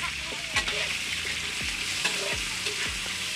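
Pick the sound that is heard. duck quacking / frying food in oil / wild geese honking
frying food in oil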